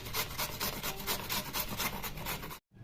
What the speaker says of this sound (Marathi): पूर्ण असं गोल गोल फिरून गाजर किसून घ्यायचं